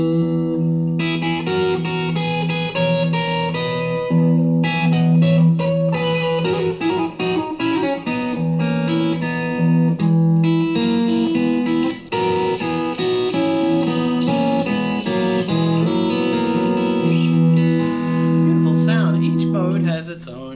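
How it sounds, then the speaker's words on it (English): A guitar plays a passage in the Lydian mode, a steady stream of plucked notes and chords ringing out loud and close for about twenty seconds, with no speech over it. "Lydian would be the next one, would sound like this."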